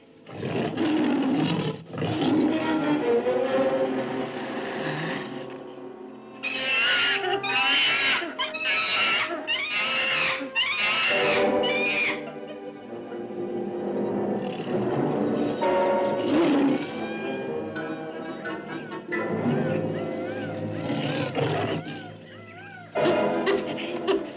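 A wounded tiger in a jungle setting roars repeatedly and loudly at close range, with long, rumbling, snarling calls broken by brief pauses.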